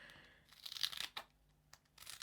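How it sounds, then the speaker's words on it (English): Scissors snipping through craft foam adhesive pads for layered cards, a few soft close crunching cuts with crinkly texture, faint and intermittent with pauses between snips. "I just cut them with a pair of scissors to make them smaller"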